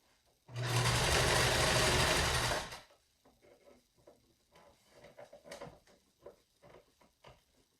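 A sewing machine stitches a pleated fabric face mask in one loud buzzing burst of about two seconds, followed by quieter clicks and fabric handling.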